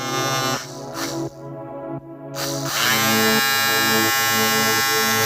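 A small DC motor used as a generator to power a 12 V DC to 220 V AC inverter whines with a steady electric buzz whose pitch shifts and dips briefly before settling into a constant, close hum.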